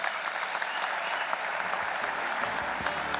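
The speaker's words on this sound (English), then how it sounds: "a round of applause as the signing of the Japan-South Africa Business Forum takes place" Steady, dense applause fills the room for the signing of a Japan-South Africa business forum, a large crowd clapping continuously at an even level throughout.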